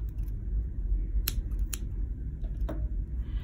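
Scissors snip through crochet yarn while finishing a vintage-style Christmas stocking, giving a few sharp, brief cuts, roughly three close crisp clicks over a quiet room background with no talking.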